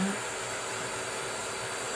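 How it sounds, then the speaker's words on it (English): A small blow dryer runs continuously, a steady airy whir with a faint hum, close and unchanging throughout. "I just use a small travel blow dryer."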